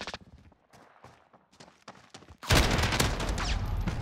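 Gunfire in the video game Call of Duty: Modern Warfare. A few scattered lighter shots and footstep-like sounds come first, then a loud, sustained burst of rapid shooting takes over for the second half.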